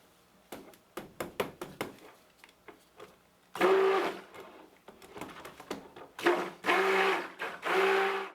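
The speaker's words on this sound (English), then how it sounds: "I'm going to take my immersion blender and we're going to mix this till a trace" A series of quick taps and knocks, then an immersion blender whirs in several loud bursts with brief pauses between them, mixing soap to trace.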